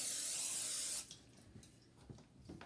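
Cooking spray hisses steadily into a baking pan for about a second in a home kitchen, followed by quiet handling sounds and a few soft clinks.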